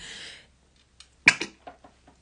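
A single sharp sneeze bursts out after a short breath, followed by a few faint sniffs and small sounds in otherwise quiet surroundings.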